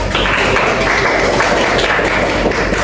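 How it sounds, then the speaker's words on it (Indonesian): Classroom students applauding a classmate after his presentation, loud dense continuous clapping filling the room with no talk over it. "Bisa tepuk tangan buat Noval."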